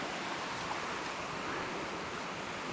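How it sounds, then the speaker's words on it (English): Heavily flowing creek close by in a cold, mossy Tasmanian forest, a steady broadband rush of pouring water with no pauses and no voices. "You can hear the creek just on our left-hand side, absolutely pouring down."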